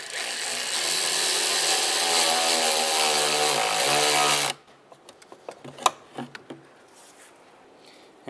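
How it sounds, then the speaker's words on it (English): A powered hand tool buzzes steadily for about four seconds while tightening a band clamp on a 2007-2015 Mazda CX-9 intake, then stops, followed by faint clicks and handling noises. "And now we'll tighten down the band clamp"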